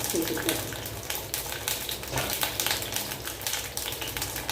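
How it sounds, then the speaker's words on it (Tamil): Eggplant (brinjal) pieces sauté in hot oil with a steady, close crackling sizzle that runs continuously, with occasional louder pops and light stirring. "கத்திரிக்காய் அப்படியே வதங்கி வரட்டுங்க"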